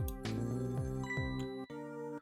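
A video game telephone from Ghost Trick rings in a short synthesized melodic ringtone, a bright chiming tone with repeated notes and pitch drops, loud and alone.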